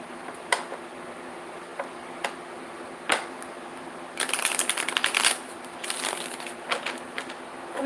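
A deck of cards is handled during a card reading: scattered sharp taps and flicks, then a dense riffling shuffle burst in the middle and softer shuffling afterward, close and fairly quiet with no talking.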